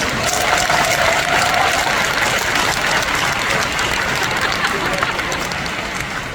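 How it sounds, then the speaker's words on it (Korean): An indoor audience gives a chairman a steady round of applause, dense continuous clapping at a loud level with a faint hum beneath, lasting the whole stretch. "그래서 우리 회장님 진짜 박수 한번 보내"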